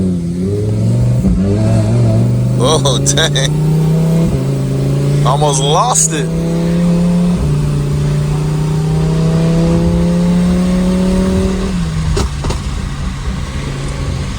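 A Lamborghini Huracan, freshly back from repair, revs hard through a full-throttle pull, its loud engine tone climbing and dropping at several gear shifts, with a driver's brief exclamation over it.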